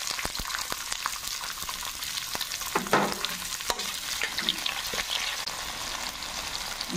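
Finely chopped onion drops into hot tempering oil, crackling and spluttering with sharp pops and a continuous sizzle, close up, with occasional stirring and no talking.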